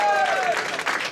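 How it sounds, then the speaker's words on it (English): Comedy club audience clapping for a comedian at a Christmas stand-up show, a short burst of applause with a host's voice carrying over the start. "Big round of applause for Ankit, please."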